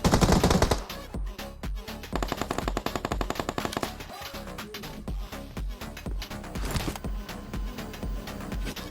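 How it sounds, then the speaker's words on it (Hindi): Rapid bursts of automatic gunfire in the BGMI PUBG Mobile battle royale game, loud and continuous with repeated rattling volleys and brief pauses between strings of shots. "उतने भाई एक पोरा चलाता है मेरे ऊपर पीछे से गोली।"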